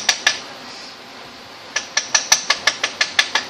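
Hammer tapping gasket material to punch out a hole, a pair of sharp metallic taps followed after a pause by a steady run of about ten evenly spaced, close, loud strikes.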